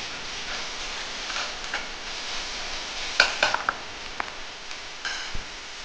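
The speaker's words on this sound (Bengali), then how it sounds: "দিয়ে ভালো করে নেড়ে নেব" Spices stirred in a cooking pot for dalia khichdi with moong dal, heard as a faint, low hiss with scattered soft scrapes and light clinks of a spoon against the metal pot.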